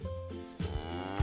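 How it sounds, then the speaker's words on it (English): A black and white cow lets out a low, drawn-out moo with a steady harmonic tone, close and moderately loud, the call shifting slightly midway and holding to the end. "Now we have a black and white cow."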